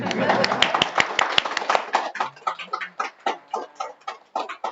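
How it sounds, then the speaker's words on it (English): A small group claps at the closing session of an event, the applause thinning into scattered, uneven claps, with voices talking over parts of it. "Rest can applaud, actually."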